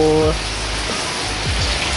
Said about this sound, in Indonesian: ini lagi hujan lebat ini guys